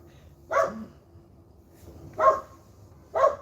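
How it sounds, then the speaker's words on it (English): Three sharp barks from a dog barking at birds, spaced apart with quiet pauses between them, fairly close and clear. "He barking at the birds."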